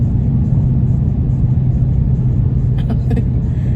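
A Dodge Charger Scat Pack accelerates, its deep engine rumble loud and steady from inside the cabin, with a few brief higher clicks near the end.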